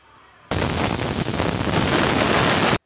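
A pressure cooker holding overnight-soaked chickpeas for chana masala lets out a loud, steady rushing blast of steam that starts abruptly, holds for about two seconds, then cuts off sharply.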